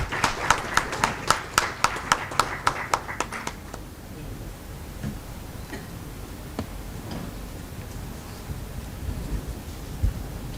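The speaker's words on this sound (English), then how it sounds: "A big round of applause, please." Sparse clapping at a labour law workshop in a hotel hall, a dozen sharp, evenly spaced claps in the opening seconds that then stop, leaving quiet room noise with occasional faint knocks.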